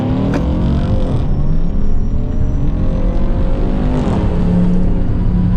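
A Tesla Model S Plaid on Nitto tires launches hard at a drag strip. A loud, continuous close-up whir and road roar build with rising tones throughout, with no talking.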